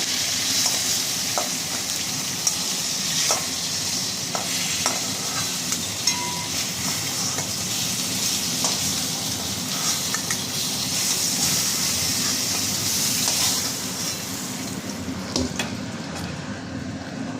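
Boal fish fry in a little oil in a pan, giving a loud continuous sizzle with scattered pops and crackles close up, no talking.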